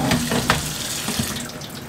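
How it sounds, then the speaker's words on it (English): Tap water runs steadily into a sink while potatoes are rinsed, a continuous close splashing stream with no talking. "So I like to rinse them until the water coming out is pretty clear."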